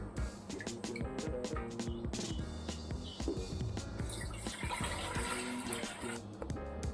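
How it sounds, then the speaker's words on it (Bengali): A container filled with water for a betta fish breeding setup, a steady continuous rush of running water close by over a dense, busy background. "তো সবার প্রথম এটা ফুল করে দিই জল দিয়ে।"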